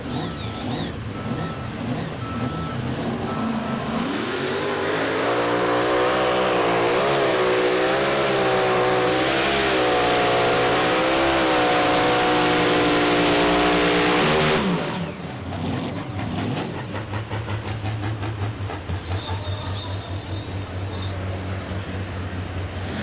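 A mini rod pulling tractor roars at a Pro Pulling League event, its engine note climbing hard and holding loud for several seconds before cutting off, leaving a rough lower idle and crowd ambience.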